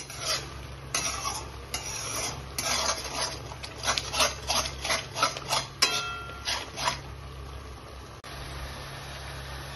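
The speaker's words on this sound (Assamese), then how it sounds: "দৈটো ভাজা হ'লে ইয়াতে মই কাজুখিনি দি পেলাই ভাজি ল'ম।" Cashews being fried and stirred with yogurt in a pan for Kashmiri aloo dum: a steady low hum under a run of scraping spoon strokes and light sizzling, close and rhythmic, easing off near the end.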